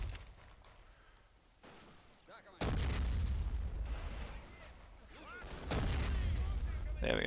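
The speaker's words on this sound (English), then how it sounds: "I managed to throw the grenade at least" A grenade goes off in the World War II strategy game Men of War with a loud, sudden boom, followed by rumbling battle noise and scattered gunfire. Commentary is spoken over the fighting.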